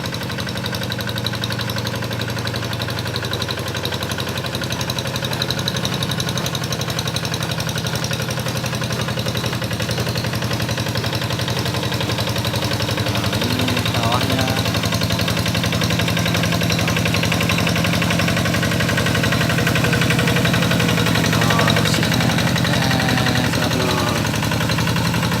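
Hand tractor plough engine running in a rice field, a loud, steady, rough chugging drone with knocking vibration that holds without a break throughout.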